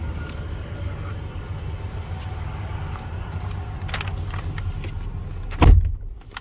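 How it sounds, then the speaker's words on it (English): Power window and door locks on a 2022 Jeep Grand Cherokee L Limited produce a steady electric motor hum inside the cabin, ending in a sharp mechanical thump near the end, with no talk. "Power door locks and your automatic window as well."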